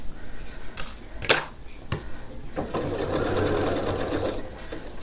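A sewing machine stitches a few quick locking stitches into a reversible fabric tote, a steady mechanical whirring burst after a couple of sharp clicks and snips, close and moderately loud.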